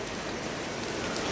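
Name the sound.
rain falling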